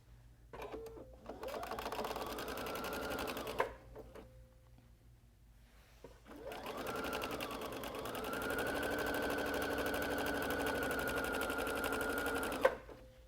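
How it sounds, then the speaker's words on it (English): Sewing machine stitching a seam across folded fabric, two sustained runs of steady motor hum and rapid needle chatter separated by a brief pause, close and fairly loud. "I'm going to match this lower edge with the upper edge and sew across."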